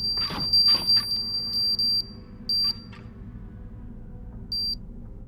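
Loud, repetitive electronic beeps from an antenna in a Chernobyl video game, a high piercing tone sounding in quick bursts at first, then spaced farther apart over a low steady hum.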